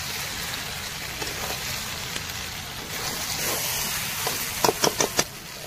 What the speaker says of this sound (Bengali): 4টে কাঁচা লঙ্কা দিয়ে দেবো, একটু কষিয়ে নেবো।